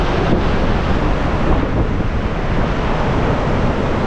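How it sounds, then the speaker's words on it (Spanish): Waterfall spray and falling rain at an Icelandic waterfall make a loud, steady, broadband roar that fills the whole clip without pause or voices. "Es toda la vaporización del agua que cae aquí, que se cubre toda la cascada. Pues ahora está lloviendo"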